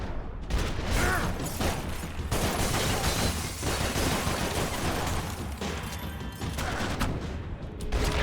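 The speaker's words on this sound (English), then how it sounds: "Who's shooting at me?" Gunfire in the video game Max Payne 3, a dense, continuous barrage of shots and mechanical clatter at full loudness, with no pauses for several seconds.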